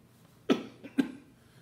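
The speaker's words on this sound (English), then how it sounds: "Excuse me for the cough." Two short, quiet coughs about half a second apart, close to the microphone, with near silence around them.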